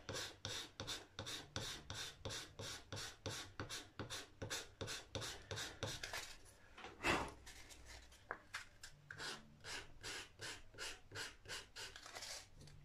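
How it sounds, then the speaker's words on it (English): Sanding a refinished guitar headstock on an Orville by Gibson with 400 grit sandpaper: steady, rhythmic back-and-forth rasping strokes, close and quiet, broken by one brief knock midway before the strokes resume. "Just a couple of passes with 400 grit."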